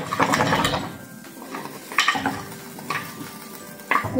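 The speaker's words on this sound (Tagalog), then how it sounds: "Dapat haluin lang natin para hindi siya dumikit sa kaldera." Pelmeni dumplings being stirred in a pot of boiling water, with irregular scraping and clinking of a utensil against the pot over a steady bubbling hiss, close and fairly loud, no talk.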